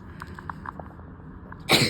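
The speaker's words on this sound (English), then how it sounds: "hold on, I'm gonna sneeze." After a quiet stretch with soft small clicks, a single short, sharp sneeze bursts out at the end.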